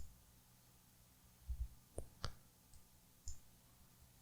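A few sharp mouse clicks while saving a private key file on a computer, close and fairly faint, spaced irregularly against a quiet background.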